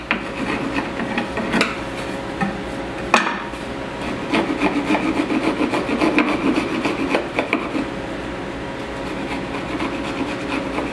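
A chisel pares and cleans up wooden half lap joints on a garden grow box or cold frame, a steady close rasping and scraping across the wood with a few sharper knocks.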